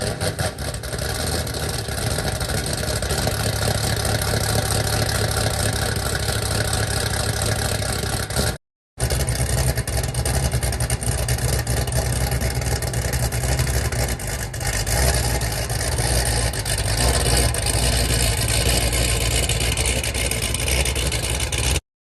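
An LS V8 car engine with an aftermarket cam idles loudly and close up with a choppy, lumpy loping rhythm, revving now and then, running continuously apart from one brief cut.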